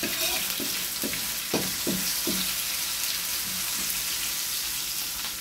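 Onion sautéing with garlic in a pan, a constant loud sizzle with a series of light utensil taps and stirs throughout.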